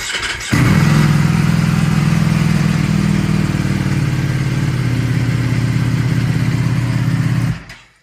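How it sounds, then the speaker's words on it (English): A Ducati Panigale V4S motorcycle engine cranks and catches after a brief pause, then settles into a loud, steady idle close by before cutting off at the end. "So let me start the bike."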